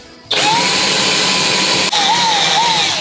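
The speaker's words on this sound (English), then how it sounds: "we're just going to keep drilling until it goes all the way through to the hole we made for the top lock" A drill with a hole saw cuts through a door toward an existing lock hole, starting abruptly into a loud, close, steady whine that briefly dips and wavers as it bites, with no talking.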